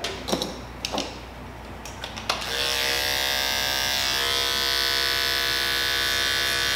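Electric barber clippers with a detachable 1.5 blade switch on and run in a steady close buzz while cutting hair, after a few clicks and taps of handling.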